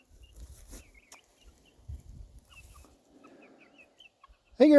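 Black sex link hens clucking softly in a greenhouse or yard, faint scattered clucks and rustles with a louder squawk at the very end.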